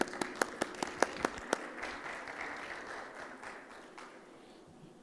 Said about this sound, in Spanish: arrubias, presidente del País Digital Chile, al cual también lo recibimos con un fuerte aplauso